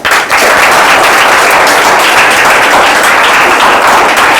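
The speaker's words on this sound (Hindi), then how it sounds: "ताली भैया दो एक बार।" A roomful of students applauds at a school test prize event, steady loud clapping that fills the whole stretch with no talk over it.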